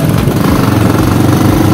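A motorcycle engine labours steadily, straining and failing to pull properly, a loud continuous rough drone close by with no clear revving or change in pitch.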